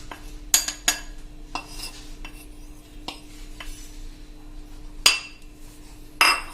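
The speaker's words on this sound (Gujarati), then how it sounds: "અને આને આપણે સરસ મિક્સ હલાવીને મિક્સ કરી લેશું" A spoon stirs custard powder into sugar in a bowl, giving scattered metallic clinks and scrapes against the bowl, a few sharper knocks standing out over a quiet background with no talking.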